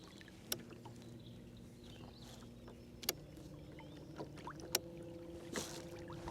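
A Frazer electric motor running at speed 5 on a fishing float tube with a lithium battery. It makes a faint, steady low hum with a few soft clicks and splashes scattered over it, and no voices.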